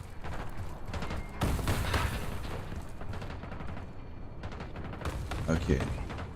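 Heavy booming cannon blasts and bursts of gunfire in a noisy video game battle scene, with a person talking over the rumbling explosions.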